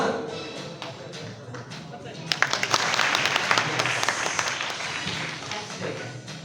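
An audience at a juggling show bursts into loud clapping partway through, with sharp claps rising over the crowd, after a performer's voice is heard before it.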